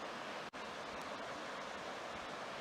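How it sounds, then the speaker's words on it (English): A stream beside an old cast iron furnace produces a continuous broadband rush of flowing water, steady and fairly soft, with one brief dropout early on and no talking. "There's the stream. That's the water that they would use."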